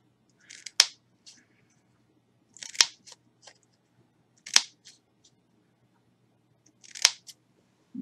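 Scissors cutting across craft material for making paper grass, four separate crisp snips spaced a couple of seconds apart, close and fairly quiet.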